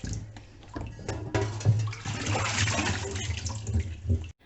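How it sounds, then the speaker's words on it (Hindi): Okra being rinsed by hand in a bowl of water, with close splashing and sloshing bursts that swell and settle irregularly as the pods are stirred and swished about. "अगर भिंडी 2 पानी से साफ ना हो तो हम इसे 3 पानी से भी साफ करते हैं"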